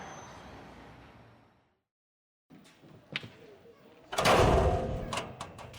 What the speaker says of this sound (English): Please stand clear. The doors are closing.